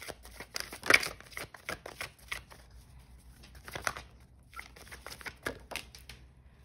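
Tarot cards being shuffled close up: repeated quick riffling bursts and soft slaps, irregular in rhythm, with no one talking.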